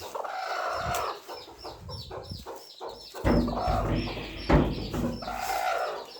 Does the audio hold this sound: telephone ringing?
no